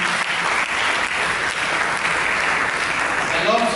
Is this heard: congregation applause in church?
yes